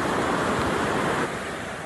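Floodwater rushes in a dense, steady roar during Storm Bert in the coastal town of Killybegs, a river running between homes, loud and close throughout with a slight drop near the end.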